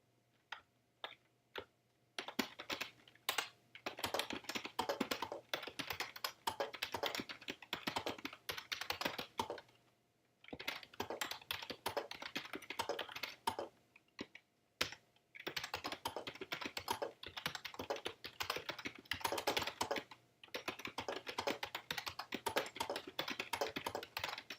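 Computer keyboard typing in rapid bursts of close, crisp key clicks, broken by short pauses around the 2, 10 and 15 second marks, with no voices.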